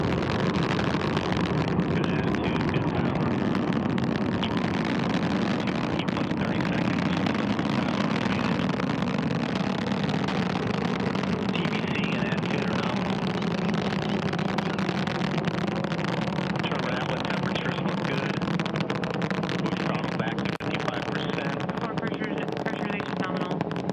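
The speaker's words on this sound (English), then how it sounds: "Liftoff confirmed. Antares and the SS Gene Cernan now bound for the International Space" An Antares rocket carrying a Cygnus spacecraft lifts off, with a steady, dense roar that holds for the whole stretch under a launch commentator's voice.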